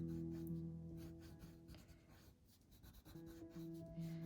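Gray coloring pencil or marker scratching across paper while shading a Paw Patrol Rubble drawing, with soft strokes under a humming background tone, close and fairly quiet.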